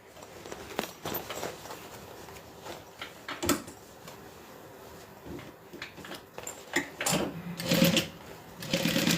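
A sewing machine puts a short stitch along a backpack seam, heard as brief, close mechanical runs and clicks mixed with fabric handling noises, with no talking.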